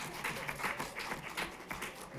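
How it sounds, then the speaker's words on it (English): An audience gives a round of applause, a steady patter of many hands clapping that sounds fairly faint and distant throughout. "let's get like a round of applause for the university that gets called NYU"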